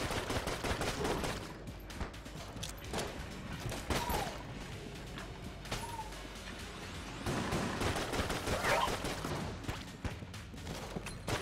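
Rapid, dense gunfire from the video game Enter the Gungeon rattles on in quick bursts of sharp shots throughout, fairly quiet overall, with a few brief game tones mixed in.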